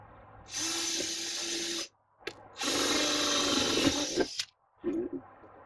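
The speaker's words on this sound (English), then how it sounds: "Okay, so I'm going to drill these 3/16 holes." A power drill whines in two long bursts with short spurts in between, a loud high buzz from a bit drilling 3/16-inch holes in the metal of a 2015 Chevrolet Equinox rear door, no talking.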